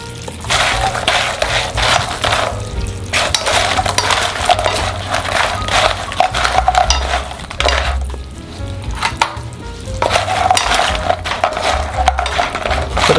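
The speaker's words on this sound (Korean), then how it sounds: "남아있는 열로 시럽 만든 걸 잘 섞으세요" Fried rice cake slices being stirred into sugar syrup in a pan: continuous loud sizzling with repeated scraping and clinking of the stirring utensil, close by and alone.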